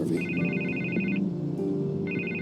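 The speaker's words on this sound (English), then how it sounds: "I can't get the phone to stop ringing." A telephone rings inside the Batman Telltale Series game, two bursts of bright electronic trilling separated by a short pause, loud and close over a low musical background.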